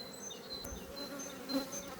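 Honeybees hum steadily around a hive comb, a soft, continuous buzz with occasional louder passes of single bees nearby, no talking.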